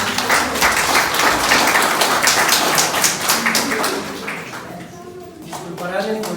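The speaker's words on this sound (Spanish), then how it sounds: "Un aplauso" An audience at a theatre performance claps loudly and densely for several seconds, then the applause thins and fades as a voice begins speaking near the end.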